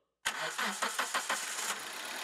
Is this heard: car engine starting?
yes